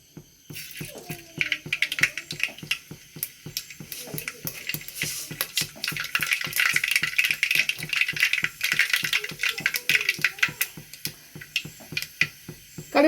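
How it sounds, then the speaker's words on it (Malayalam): Mustard seeds pop in hot oil in a clay pot for a rambutan pickle, a rapid, irregular run of sharp crackling clicks that builds and stays busy throughout, with a faint voice murmuring now and then. "കടുകെല്ലാം പൊട്ടി കഴിയുമ്പോൾ"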